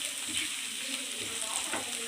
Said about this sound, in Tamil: கருவேப்பிலை கொஞ்சம் அப்படியே போட்டுக்கிறேன். பூண்டு மாதிரி கொஞ்சம் ஒட்டும். நல்லா கிளறணும்.